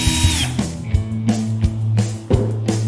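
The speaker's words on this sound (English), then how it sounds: "Fix hinge head with screws." A power drill drives screws into a furniture hinge on a board, its motor whining steadily with pulsing torque bursts, close and loud with no talk.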